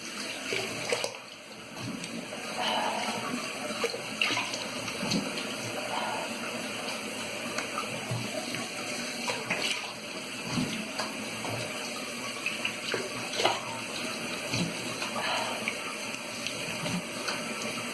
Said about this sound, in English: Let me rinse my face a bit more.